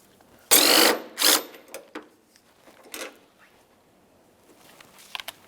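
A ratchet wrench loosens an 8mm headlight bolt on a 2003–2011 Mercury Grand Marquis, with two loud close bursts of clicking followed by a few softer, scattered ratchet clicks and taps.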